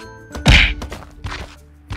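A critical hit lands in the Roblox Skyblock game, a single hard thunk, loud and close, with a few faint softer knocks after it.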